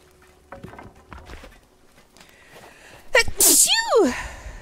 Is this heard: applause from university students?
no